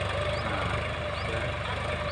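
A four-wheel-drive tractor pulling a cultivator through a field in first high gear runs with a steady, droning engine rumble, constant and unbroken, heard up close.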